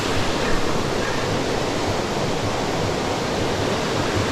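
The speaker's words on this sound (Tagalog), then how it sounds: "Ito kasi yung bukal nang gagaling yung mga tubig." Spring water gushes continuously at a scenic outdoor spot, giving a dense, even roar of flowing water heard up close with no other sounds standing out.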